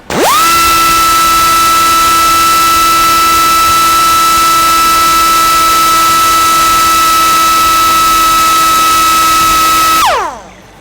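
A high-pitched U-tool U-125 pneumatic die grinder with a 6 mm collet, made in Japan, whines at a steady pitch for about ten seconds, loud and close, then spins down and stops.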